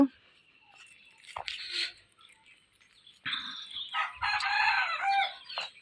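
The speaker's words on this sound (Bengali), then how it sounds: "মুরগি ডাকতেছে।" Backyard chickens at a village home, a rooster crowing in long strained calls with hens clucking around it, fairly close, following a short spoken exchange at the start.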